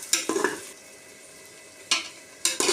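Seven green chillies sautéed in a pan for a country chicken biryani, with a low sizzle and a few sharp spatula scrapes and clinks against the pan, close up and with no talking.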